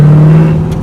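Corvette sports car engine with a loud, steady low rumble close by that eases slightly toward the end, heard alone.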